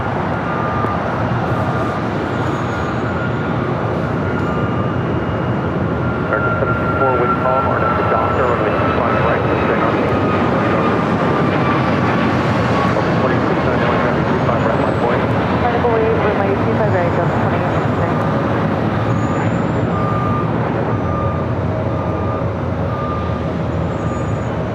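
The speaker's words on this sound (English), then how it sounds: "United Airlines flight 279 and the 737 MAX 8 taking off" A United Airlines Boeing 737 MAX 8 takes off at LAX, its jet engines producing a steady, broad roar that holds at even loudness throughout, heard from a distance.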